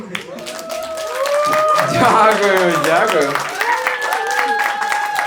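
A stand-up comedy audience applauds in a loud, sustained wash of clapping that swells and then holds. Someone talks clearly over it throughout, thanking the crowd.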